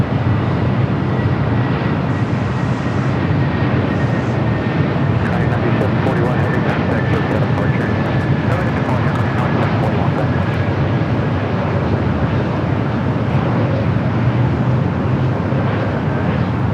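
A Delta Airbus A321 at Los Angeles International Airport gives a loud, steady broadband engine roar with a faint high whine, sustained close by throughout.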